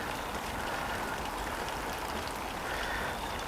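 Steady rain falls at an outdoor fishing pond, a soft, even hiss of drops on water and surfaces, continuous and faint with no other sounds over it.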